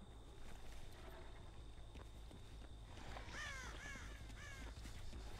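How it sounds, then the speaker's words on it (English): A crow caws a few times at mid distance in Dead by Daylight, harsh repeated calls over a low ambient game drone with faint footsteps. "Thanks, crows."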